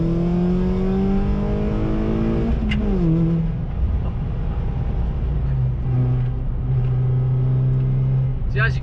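Ford Fiesta ST150 with a Miltech non-resonator exhaust accelerating on a road, a loud close engine rising in pitch through the gears, with a brief gearshift dip and voices talking over it.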